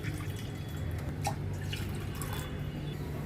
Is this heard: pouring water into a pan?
yes